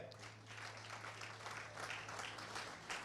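An audience applauds steadily at an Ismast Energy business award ceremony as the company's director is called up. The clapping is soft and distant, a continuous patter over a low electrical hum.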